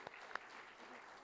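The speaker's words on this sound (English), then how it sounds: "I invite you to give a round of applause for Ed Fulner, a man who leaves a legacy of leadership for" Brief applause from a conservative policy gathering's audience, a soft spread of clapping with a couple of sharper individual claps near the start, moderately distant and fading evenly.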